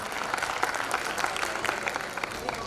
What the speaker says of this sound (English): Parents, please give them a huge round of applause.